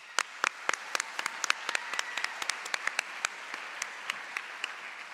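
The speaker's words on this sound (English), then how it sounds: "let's also give a large round of applause to our fabulous school business partners who support and invest in these teachers" A modest audience applauds school business partners at the Golden Apple 2022 teacher awards, with soft, fairly quiet clapping in which individual sharp claps stand out in an irregular patter above a low crowd wash.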